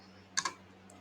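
Two quick, faint keystrokes on a computer keyboard in a quiet room, with a tiny click just after.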